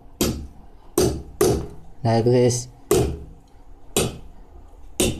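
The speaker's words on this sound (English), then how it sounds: "I made the hole by strike the plate with this tool" Hammer blows on a hand tool punching holes in a small metal plate for a homemade RC tank track: six sharp, evenly spaced strikes, close and loud, with someone speaking briefly between them.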